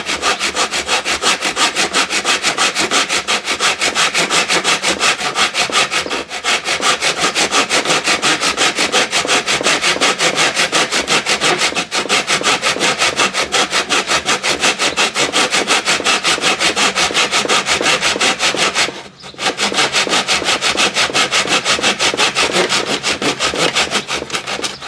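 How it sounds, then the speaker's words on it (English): A hand saw cuts wood held in a plastic miter box with a blade cover, rapid, steady rasping back-and-forth strokes close and loud, pausing briefly only once. "so I'm going to saw"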